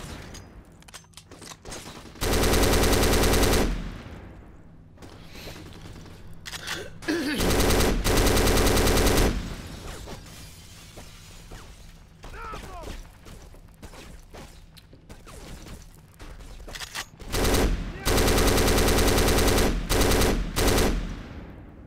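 Machine gun fire in the shooting video game Black, several loud sustained bursts of automatic fire separated by quieter stretches of game noise, close and dominant.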